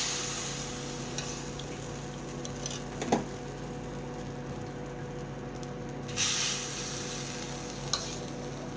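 Sara pitha batter sizzles in a heated clay pot over a wood fire, a steady close hiss with a brief knock, then a louder surge of sizzling partway through.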